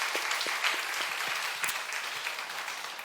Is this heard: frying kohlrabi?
no